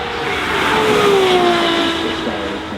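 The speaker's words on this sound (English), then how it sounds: "Heading its way from the start line, we get a glimpse of the T50" Gordon Murray T50 hypercar, a track-only special with Niki Lauda at the wheel, pulling away from the start line at a hypercar event. It gives a loud, sustained engine roar, with the pitch rising and sweeping as it accelerates.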